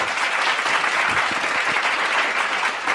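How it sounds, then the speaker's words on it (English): A conference audience at an autism foundation acceptance event gives a speaker a big, continuous round of applause, full and steady throughout. "let's appreciate her with a big round of applause"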